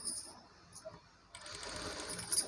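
Partway through, a sewing machine starts stitching saree fabric being converted into a long frock, a faint, steady mechanical whir after near-quiet handling sounds.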